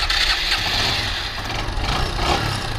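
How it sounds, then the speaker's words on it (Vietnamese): A Kawasaki Boss 175cc motorcycle engine starts up and settles into a running putter, close and fairly loud, with a rising burst of revving toward the end. "ngồi thử cho anh em xem mình nổ máy thử"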